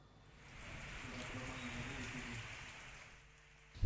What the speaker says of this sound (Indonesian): Hujan deras tidak menghalangi warga pada larang di Kabupaten Bandung Barat untuk mengikuti pesta demokrasi.